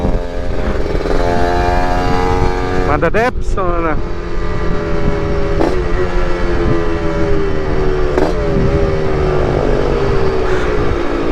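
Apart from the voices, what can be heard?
Yamaha RX King two-stroke motorcycle engine revving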